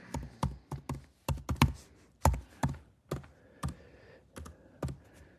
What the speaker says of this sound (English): I'll type in my username. I'll type in my password.